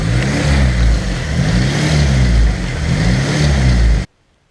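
Car engine hunting at idle, with a suspected idle control valve fault: loud, close engine drone that rises and falls in slow regular surges for about four seconds before cutting off abruptly.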